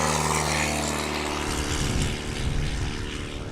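A Piper Cub propeller airplane flies at a STOL competition in Jennings, Louisiana, its engine droning loud and steady with a strong buzzing tone before shifting to a broader rushing roar as it passes close by, with no voices.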